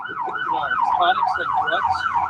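An ambulance siren wails steadily nearby as it passes, its pitch sweeping up and down in a continuous, regular cycle.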